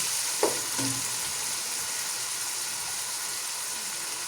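Onions and tomatoes with salt sauté in a pan, producing a constant, even frying hiss with a couple of faint utensil taps early on.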